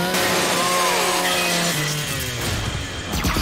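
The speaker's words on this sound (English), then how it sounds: "Right, bump it, use the chainsaw." A Lancer rifle's chainsaw bayonet in Gears 5 revs and grinds through a metal custodial robot unit, a loud, close, whirring buzz with shifting pitch that gives way to harsh scraping and clanking.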